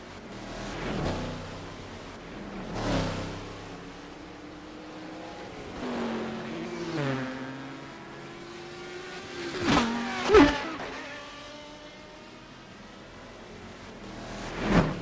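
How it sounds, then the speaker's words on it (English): Race cars in a Second Life racing game sweep past one after another, each engine rising and falling as it passes the camera, with several flybys spread across the stretch. "I love hearing the cars just fly by."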